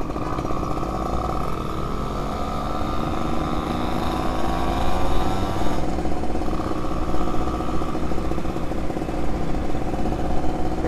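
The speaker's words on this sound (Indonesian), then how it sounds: "Ini knalpotnya enak banget ternyata, yang dari Jogja itu." Loud, continuous engine roar from a Yamaha V80 two-stroke motorcycle with a turbo setup and an aftermarket exhaust made in Jogja, revving steadily on a busy road with a pitch shift midway.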